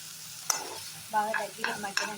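Spinach and tamarind frying in a pan are stirred, producing a few close scraping strokes and soft clinks over a light sizzle, with no talking.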